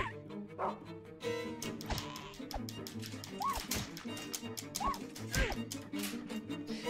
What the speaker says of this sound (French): Ah, mais il tape sur le chien, en fait.